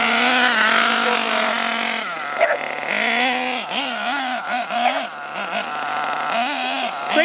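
A cold engine on a model car runs with a buzzy, revving drone that rises and dips unevenly, loud and close, while a person talks over it.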